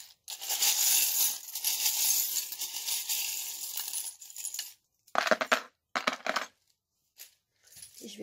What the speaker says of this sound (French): je vais tirer les charms